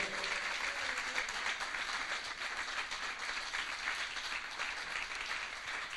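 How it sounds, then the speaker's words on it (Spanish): A church congregation claps together in a steady wash of applause, moderately distant and even, sustained throughout with no clear pauses. "Denle un aplauso fuerte al Señor."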